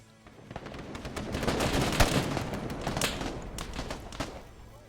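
Rapid bursts of gunfire crackle continuously, dense overlapping shots forming a sustained barrage with sharper single cracks standing out, loud and fairly close.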